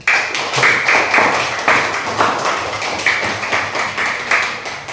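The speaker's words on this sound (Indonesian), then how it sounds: "Kita tepuk tangannya untuk semua." A class of students applauds together in a classroom, with a brisk, continuous round of hand claps that comes through loud and close, barely any voices over it.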